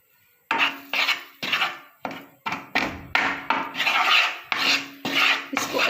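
Flour roasting in melted butter in a pan, stirred with a utensil: a steady series of about a dozen rasping, scraping strokes against the pan's metal surface, each one loud and close, with brief pauses between them.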